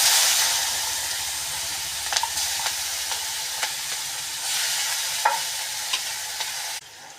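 Whole cumin and onions frying in hot oil in a pan, a steady close sizzle and hiss with occasional scraping clicks from stirring, then a sudden drop in intensity near the end.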